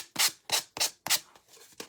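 Fine sandpaper is worked by hand over a small shelf-sitter figure in quick back-and-forth strokes, five or six rhythmic hissing scrapes close to the listener with brief pauses between them.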